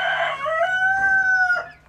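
A rooster, newly brought to a small poultry setup with chicks, lets out one long, loud crow close by, with no talk over it.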